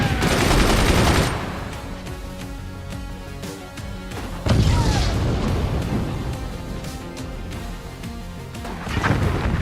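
Video game gunfire including sniper shots, loud bursts of rapid fire and heavy booms in waves with quieter stretches between, no voices over it.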